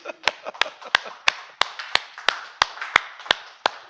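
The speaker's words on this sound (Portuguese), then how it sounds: "Uma salva de palmas ao Senhor." A church congregation clapping in praise, rendered as a sparse, regular series of about a dozen sharp, distinct claps spaced evenly roughly three per second, close and clear with little background.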